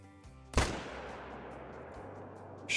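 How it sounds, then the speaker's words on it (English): A single sharp rifle shot fired at a gemsbok at 380 yards in the Call of the Wild hunting video game, loud and close, with a rolling echo trailing off over ambient hum. "Shot looked pretty good to me."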